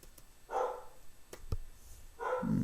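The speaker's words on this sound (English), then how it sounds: "You can hear Sophie barking in the background." A dog barks a few times in the background, moderately distant, in short separated bursts with faint clicks between.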